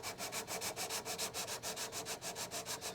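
Fret tops on a Martin dreadnought guitar are sanded with roughly 320-grit abrasive in quick, even back-and-forth strokes, making a close, dry rasp that pulses steadily about six times a second.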